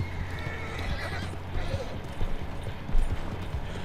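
A horse whinnies and its hooves clip-clop at a quick pace in Red Dead Redemption 2, mixed with game background noise.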